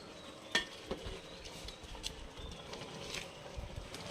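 Food being stirred in a cooking pot, soft scraping and shuffling under a faint sizzle with a few sharper clinks of a spoon against the pot, quiet and close with no talk.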